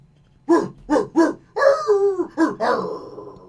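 A recorded dog barking played back from another room, a quick series of yelps and longer woofs, close and clear with no talking.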